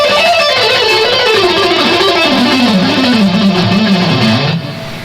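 A distorted electric guitar runs down a whole scale in fast picked notes with downstrokes, a steady descending line in rock style, loud and alone, cutting off near the end.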